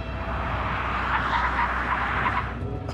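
A tuned high-power SUV accelerates hard at full throttle, its engine roaring loudly and steadily for a few seconds. No one speaks.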